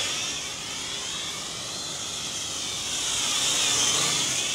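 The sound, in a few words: Cheerson CX-33C hexacopter drone flying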